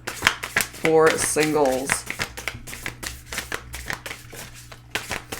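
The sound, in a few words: shuffling a large deck of cards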